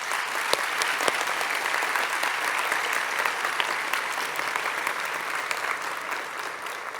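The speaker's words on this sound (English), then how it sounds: "Seniors, can you give them a round of applause?" Graduating seniors at the Sandy High 2022 graduation ceremony applaud their family and friends, a large crowd clapping in a sustained, even roar with a few sharper individual claps standing out near the front.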